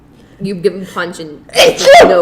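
A single abrupt sneeze bursts out at the end, loud and close, just after a person speaks.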